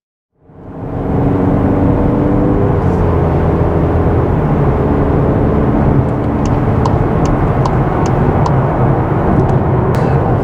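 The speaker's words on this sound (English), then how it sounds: "Let's go for a drive in the Arteon R shooting brake." A Volkswagen Arteon R Shooting Brake drives at speed, rising quickly from silence into a loud, steady engine and road roar with tyre hum, sustained and close from inside the cabin.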